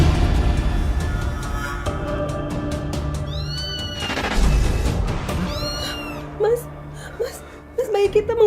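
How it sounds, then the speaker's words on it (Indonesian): Several high, wavering mewing cries rise and fall amid background commotion and voices, a few soft whimpers breaking through near the end. "bayi kita mengeluarkan suara kucing"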